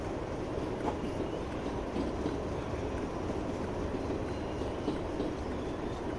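A British Rail Class 40 diesel locomotive in Train Simulator Classic, running at a steady loud thrash. The broadband engine roar continues without a break, with faint rail clatter and no talking.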